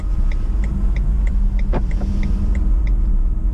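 A BMW i3S electric car pulls out of a junction with a constant low road rumble and a faint regular ticking, likely the indicator, heard from inside the cabin.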